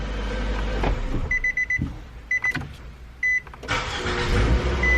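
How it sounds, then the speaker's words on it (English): A Nissan Sentra engine cranks briefly and starts right up after a couple of revolutions, with a high electronic tone and beeps in the cabin, close and alone. "Just a couple revolutions, it starts right up."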